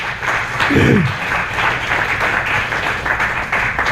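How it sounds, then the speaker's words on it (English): Congregation applause at a Unity of Kona church service, a steady wash of clapping filling the room with a brief low voice or cheer early on. "Give yourselves a round of applause for that."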